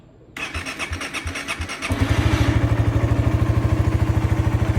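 A 2017 Suzuki GSX150R motorcycle with about 56,000 km cranks over with a few rhythmic starter pulses, then fires and settles into a loud, steady, evenly throbbing idle close by.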